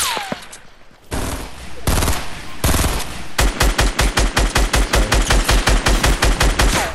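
Rapid, evenly spaced gunshots in the video game Fortnite, where players are sniping: a loud burst of automatic-sounding fire follows a few scattered shots and a brief hiss, with no talk.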